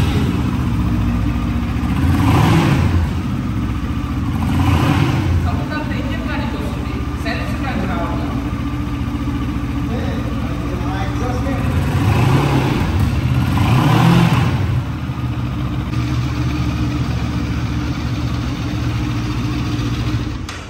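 A Benelli motorcycle idles steadily at a showroom in Nellore, and its engine swells in a few short revs over the continuous hum while people talk nearby.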